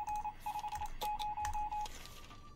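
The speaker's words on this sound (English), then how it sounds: "How are we getting a radio notification right now?" Repeated electronic beeping of a radio notification tone in a video game, steady pulsed tones in a few bursts with short gaps, moderately loud and alone without talk.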